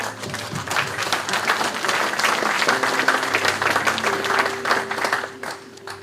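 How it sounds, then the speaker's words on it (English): A church congregation giving a clap offering to God, a steady burst of many hands clapping together at moderate volume, with a faint sustained tone underneath. "Can we give a clap offering to God?"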